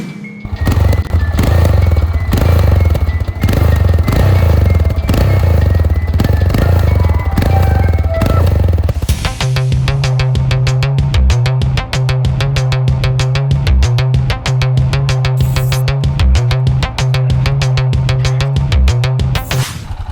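A Yamaha XT 660R motorcycle ridden flat out at top speed: loud buffeting wind roar at first, then a steady high, sustained engine drone that continues to the end, with no voices.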